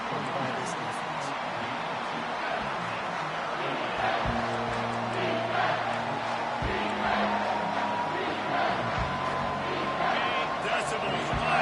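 A stadium crowd roars in a college football video game, a constant loud wash of cheering swelling on a third down while a commentator talks over it.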